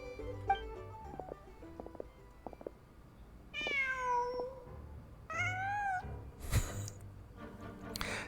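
A cat meows several times inside a video game, drawn-out tonal cries that rise and fall, with short clicks and ambient game sounds between calls.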